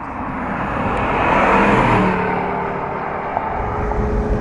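An Aston Martin DB10 from Spectre drives off, a broad engine whir that swells around the middle and then eases into a steady drone, alone without talk.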